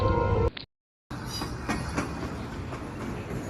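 A train sound effect in a narrated audio story: after a short burst of other sound and a moment of silence, a steady rolling rumble sets in with faint rhythmic wheel clatter, close and continuous.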